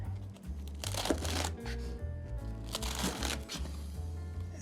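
A knife cuts through crisp romaine lettuce with two bursts of crunchy crackling and tearing, close, set against low steady music.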